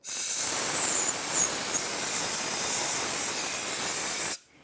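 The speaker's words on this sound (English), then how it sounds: "If you have access to compressed air, you can speed up the drying process." Compressed air blasts steadily onto a 2014-2018 GMC Terrain front brake to blow off brake fluid, a loud continuous hiss lasting about four seconds before cutting off abruptly.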